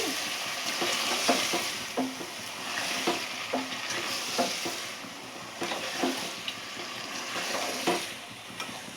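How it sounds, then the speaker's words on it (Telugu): Egg curry being stirred in a pan, a spoon scraping and clicking in a steady repeating rhythm over a soft continuous sizzle, close by with no talking. "ఒకసారి కలిపేద్దామండి. కలిపి"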